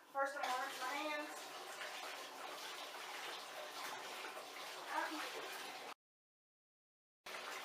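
Water runs from a tap into a bathtub being rinsed during cleaning, a steady splashing gush with a few brighter splashes. It cuts out to silence for over a second, then resumes briefly.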